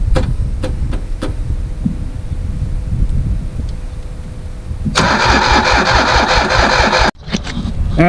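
An old Ditch Witch 3500 trencher engine is cranked with a few slow turns, then catches and runs loud with a steady throbbing roar, cutting out briefly near the end before picking back up.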